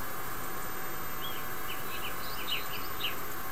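Birds chirping in the King's Quest III adventure video game, a series of short, light tweets scattered over a steady background hiss, moderately faint.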